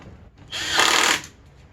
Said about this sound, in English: screw it in with those 1-inch screws again